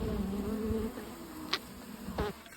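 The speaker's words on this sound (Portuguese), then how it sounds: "Então tem muita abelha aqui, entendeu?" Stingless bees of the Northeastern uruçu species buzz steadily at their hive box, a close, continuous drone with a few sharper clicks and knocks, no talking.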